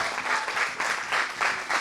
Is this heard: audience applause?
yes